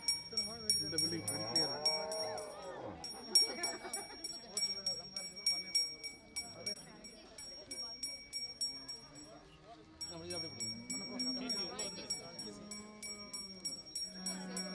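Cattle at a 108-cow puja and donation festival in Rasipuram, lowing now and then among crowd chatter and people giving instructions, with a continuous high ringing tone running through most of the scene.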